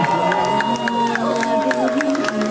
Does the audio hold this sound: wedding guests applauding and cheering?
yes